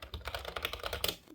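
Quick, crisp clicks from an ASMR-style white keyboard sound in a fast, uneven run of keystrokes, close and fairly quiet, with no talking.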